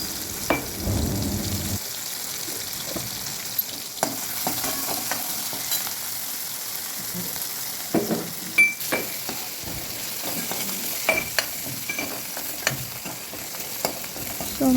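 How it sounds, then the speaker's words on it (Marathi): Masala spices with curry leaves frying in a pan for homemade patties: a continuous soft sizzle with intermittent stirring scrapes and occasional light clinks, close and steady throughout. "सो आपला मसाला जो आहे तो शिजू द्यायचा थोडा."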